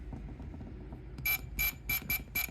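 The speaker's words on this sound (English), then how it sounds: "And every time I push it, I get the beep." A multimeter set to continuity beeps as a button on an Ergomotion wired bed controller is pressed, giving five short, bright electronic beeps in an irregular rhythm over low background hum.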